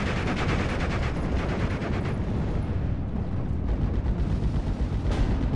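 Dense, continuous gunfire from an enemy .50 cal machine gun in the WWII strategy game Steel Division: Normandy 44, set in a Normandy tree line; loud, sustained rattling bursts blending into a heavy battle roar with no talking.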